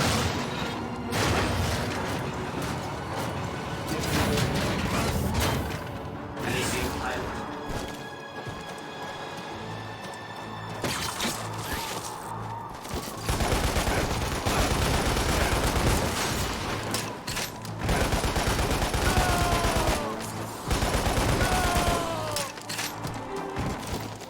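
Gunfire, crashes and explosive blasts from a video game in rapid bursts, loud and dense with mechanical clatter and brief quieter gaps, with little speech.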